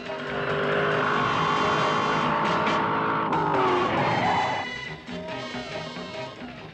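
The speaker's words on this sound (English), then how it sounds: "That's Batman driving the car and running into the building." A cartoon Batmobile skids loudly and crashes into a building, a sustained tire squeal and engine roar that drops off into clattering impact and debris near the end.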